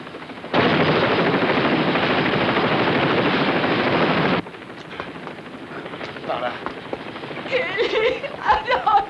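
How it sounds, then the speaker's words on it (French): A rescue team helicopter beside a burning high-rise tower roars in a loud, steady rotor wash for about four seconds, then cuts to quieter scattered sounds and voices. "Hélicoptère à équipe de secours."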